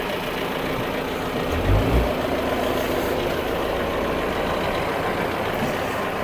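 A goat farm's truck engine rumbles at a steady idle with a deep, continuous drone, swelling briefly in the low end as it begins to move off.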